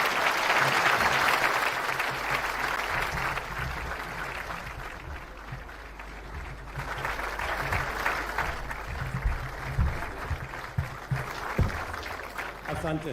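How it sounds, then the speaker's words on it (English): A large audience at the Kenyan National Prayer Breakfast applauds to welcome the President of Kenya, a dense, sustained roar of many hands clapping that carries on for over ten seconds at a steady level. "please be upstanding and I'll assist me to usher in our President with clapping, Dr. William Ruto"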